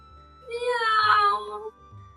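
A single drawn-out meow, rising and then falling, rendered by a human voice imitating a cat during storytelling, close and fairly clear against a quiet background.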